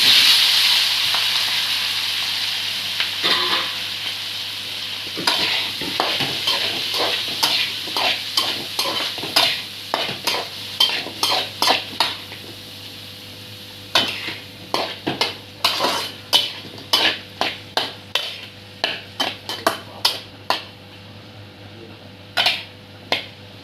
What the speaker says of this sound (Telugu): ఉల్లిపాయలు, పచ్చిమిరపకాయలు, టమాటాలు ఇవన్నీ, దోసకాయలు ఇవన్నీ మగ్గేదాకా ఆయిల్లో బాగా వేపేసుకొని